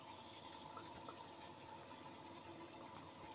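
An LG E10B8ND5 washing machine fills its drum with water for the rinse, giving a steady, continuous rushing and hissing of water that holds at an even level throughout, with no voices.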